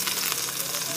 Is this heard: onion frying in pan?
yes